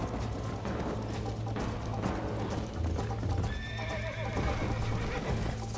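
Horse hooves clip-clop steadily at a gallop with a neigh and whinny, set against a dense, continuous Red Dead Redemption game soundscape and music.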